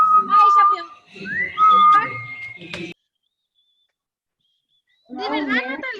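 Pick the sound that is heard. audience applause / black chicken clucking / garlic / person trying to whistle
person trying to whistle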